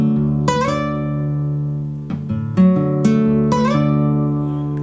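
A fingerpicked acoustic guitar plays a phrase from a song alone and up close, with bright plucked notes and pinched chords ringing over a steady thumbed bass.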